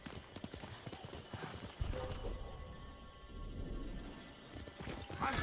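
Horse hooves clip-clop in a quick galloping rhythm in Ghost of Tsushima, fairly close, with a brief whinny-like burst near the start and muffled game sounds underneath.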